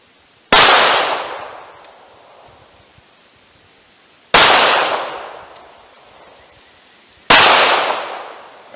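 Three sharp revolver gunshots fired outdoors at a target 70 yards away, each a loud crack followed by a long rolling echo that fades out over a few seconds before the next shot.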